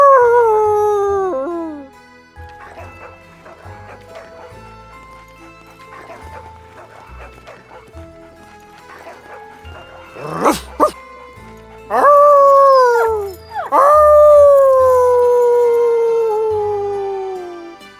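A dog in the video game Everlight: Of Magic and Power lets out long, loud falling howls, then barks and yips over a quieter stretch, and more drawn-out howls follow close by.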